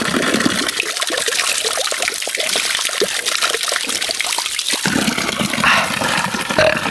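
Water from a natural spring at Calima Falls in Pola, Oriental Mindoro, pours and trickles in a steady, close, splashing stream that runs the whole time, with no voices.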